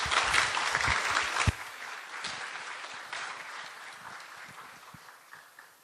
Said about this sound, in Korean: 오늘 귀중한 시간을 내주신 권철현님을 큰 박수로 맞이해 주시기 바랍니다.